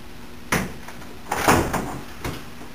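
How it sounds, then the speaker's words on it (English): An interior door is pushed shut with a resistance band anchored behind it, giving a soft thud and latch click followed by a couple of lighter knocks as it settles, close by and with no one speaking. "I'm going to close the door with the knots behind it"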